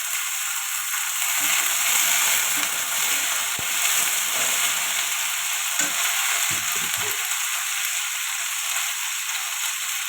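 Flat beans and bitter gourd fry in hot oil with cumin, giving a loud, steady sizzle with no talk and a few soft stirring knocks.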